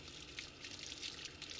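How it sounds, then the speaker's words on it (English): Cups being rinsed with tap water down a sink, a soft continuous splash and trickle with small uneven bursts, faint and without talk. "Going to rinse it out with some water down the sink."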